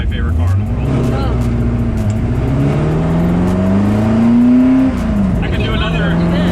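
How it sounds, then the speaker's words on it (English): A Ford GT40 on a ride-along gives a loud, close engine drone whose pitch climbs steadily as it accelerates, then drops and settles, while people talk over it. "This car is my favorite car in the world."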